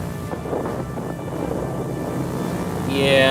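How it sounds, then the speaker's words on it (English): A heavy thunderstorm in a combat flight video game, with a steady loud rumble of rain and thunder that swells toward the end, plus a brief higher tone near the close. "There's a heavy storm here."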